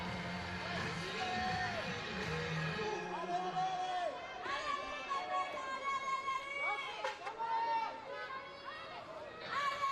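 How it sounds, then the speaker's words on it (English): A French crowd at a bouldering World Cup semi-final cheers and shouts encouragement for climber Julia Chanaudy, a lively rising and falling roar with individual yells, heard under a commentator's talk. "you might be able to hear through our microphones, the French crowd giving her plenty of encouragement"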